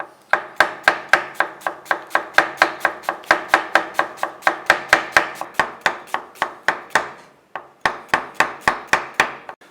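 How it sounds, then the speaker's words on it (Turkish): A knife chopping an onion rapidly on a board, dozens of even, crisp strikes in a steady rhythm, with a brief pause near the end. "Soğanımızı ben hemen piyazlık doğrayacağım."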